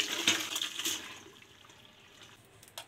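Water drains from cooked chana dal and chopped cabbage as they are strained in a home kitchen, a soft splashing pour that trickles away to a faint drip, with no talking.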